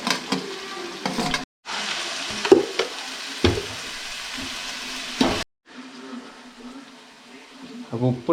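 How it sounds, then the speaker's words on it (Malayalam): Samosa masala filling fries in oil in a pan, a moderate sizzle broken by stirring scrapes and two brief silent gaps, with a voice talking over parts of it. "എണ്ണ വെച്ചിട്ട് ഇതെല്ലാം നമുക്കൊന്ന് മസാല വേവിച്ചെടുക്കാം"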